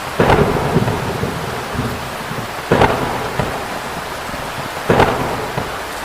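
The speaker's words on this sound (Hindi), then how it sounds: "अचानक से आधी रात को तेज गड़गड़ाहट के साथ बारिश होने लगती है।" Heavy rain pours steadily through the night while loud thunder cracks three times at spaced intervals. Each crack is followed by a rolling rumble, and no voices are heard.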